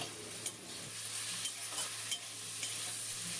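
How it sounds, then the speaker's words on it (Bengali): Ground spices sauté with potato and eggplant for a greens chorchori, a quiet steady sizzle with a few light spoon scrapes at intervals, close and without talk. "এই গুঁড়ো মশলাটা আলু বেগুনের সাথে কষিয়ে নেব"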